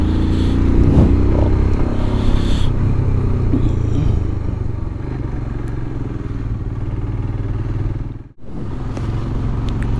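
A Royal Enfield Himalayan BS6 motorcycle rides through Gangtok in the evening, its engine a steady, close, continuous rumble with road noise and a brief dip near the end.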